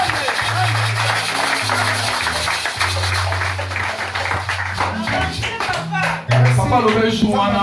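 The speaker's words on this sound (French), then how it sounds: "Acclamons pour le Seigneur pour cette parole" A church congregation claps and applauds in praise at a Sunday service, with steady hand claps running under loud voices and calls, then a sharper burst of clapping near the end.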